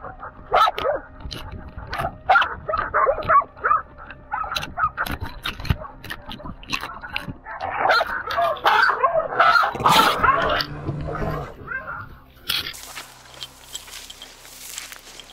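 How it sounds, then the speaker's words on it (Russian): Hunting dogs barking in the taiga, distant and echoing, with repeated yaps and barks spread through the whole stretch and footsteps and rustling closer by. "собак уже отчетливо хорошо слышно"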